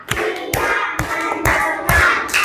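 A classroom of children claps hands together in a steady counted beat: about six distinct, fairly loud claps spaced roughly half a second apart over a constant murmur of room noise.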